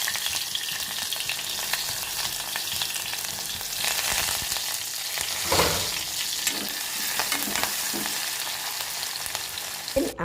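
Chopped onion, chili, ginger garlic paste and curry leaves fry in oil for chicken biryani, making a loud, continuous sizzle broken by stirring scrapes, with no voices.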